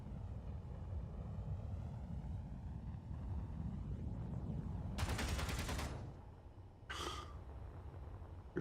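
Gunfire in the space video game Space Engineers comes as a rapid burst of automatic shots and then a second short burst, heard over a steady low engine-like rumble.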